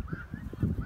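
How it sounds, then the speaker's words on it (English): Faint honking of geese carries from a distant farm barnyard, a few brief calls in quick succession. "I hear the geese way over there at the barnyard."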